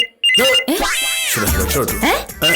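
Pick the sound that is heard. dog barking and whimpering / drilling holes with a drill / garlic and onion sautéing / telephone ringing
telephone ringing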